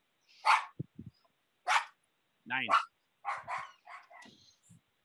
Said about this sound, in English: My dog is got locked in my office here.